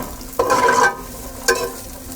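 Dried dates (chhuare) lightly roasted on low heat in a pan for sheer khurma garnish: two distinct scraping stirs cut through a soft, steady sizzle.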